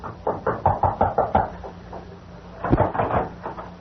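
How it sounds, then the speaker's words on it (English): Several sharp knocks on a wooden door in quick succession, a short pause, then another loud rap, produced as a sound effect in an old-time radio crime drama. "he approached and rapped on the door"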